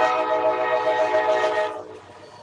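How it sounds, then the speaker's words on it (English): A passing train's loud, sustained horn blares close by at night, then cuts off and leaves a fainter rumble. "here comes another train"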